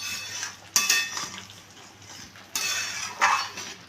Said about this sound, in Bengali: মিশিয়ে নিচ্ছি